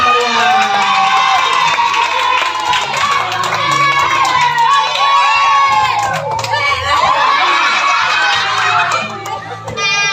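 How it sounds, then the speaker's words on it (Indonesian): Children at a primary school Kartini Day fashion show cheer, shout and clap loudly together. Their excited crowd noise stays dense and continuous, with music and chatter underneath. "Beri tepuk tangan yang meriah."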